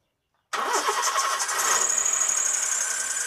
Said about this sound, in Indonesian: Coba hidupkan sih mas, tong starter mas, biar dia kesetik oli-olinya.